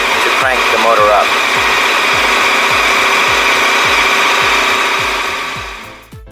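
A 2021 KTM 1290 Super Adventure S motorcycle engine fires up and settles into a steady, loud idle with a regular low thumping pulse, running continuously before cutting off near the end.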